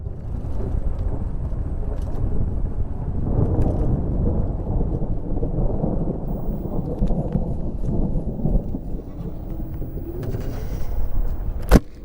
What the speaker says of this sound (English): I guess we'll find out if I hear thunder